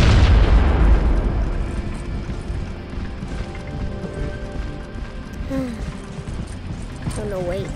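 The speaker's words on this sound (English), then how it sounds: "Grenade out!" A grenade blast in the war game Shadow Gun War Games, a loud booming burst that rolls off into rumbling debris and gunfire noise, with brief voices over the tail.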